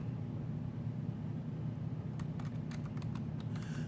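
Someone types a password on a computer keyboard while setting up a Linux system, producing a short burst of faint, quick clicks over a steady low hum after a couple of seconds of quiet.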